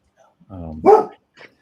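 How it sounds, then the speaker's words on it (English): A dog nearby lets out a short growling whine followed by a single sharp bark, then a faint brief yip; no one speaks over it. "What a silly dog."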